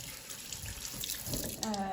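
Hot tap water runs steadily into a sink as a pastry piping bag is rinsed, a continuous near splashing flow that shifts and thickens toward the end.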